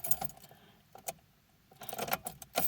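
Car keys jangle and clink in bursts as they sit in the ignition of a Honda Insight, a few quick metallic rattles separated by a quiet pause, faint and close.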